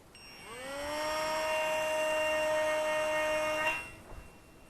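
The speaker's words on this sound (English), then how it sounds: "another flight on the MinimumRC Micro Spitfire. Let's get it in the air." The electric motor of a MinimumRC Micro Spitfire warbird RC model plane spins up to a steady, close, high-pitched whine with a clear tone, holds for a few seconds, then cuts off abruptly.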